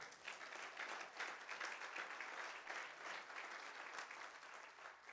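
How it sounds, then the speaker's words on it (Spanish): A church congregation applauds during a sermon, a steady, even wash of clapping that swells and dips slightly, heard at a distance and rather quiet. "Denle un aplauso a Cristo."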